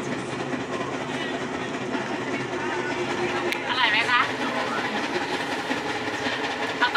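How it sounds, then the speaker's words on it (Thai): A train rumbling along the tracks with a steady clatter and low roar, voices talking over it and a brief squeal partway through. "อยู่บนรถไฟ"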